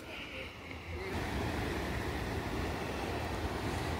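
Steady roaring surf with a broad washing noise that swells and stays loud, no voices, like waves breaking nearby.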